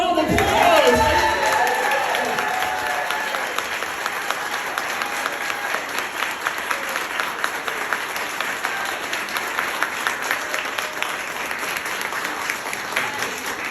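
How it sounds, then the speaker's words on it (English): Loud audience applause with cheering and whoops at a community nonprofit campaign kickoff, a dense crowd roar that swells at the start and then settles into steady sustained clapping for the rest. "Everyone give a round of applause."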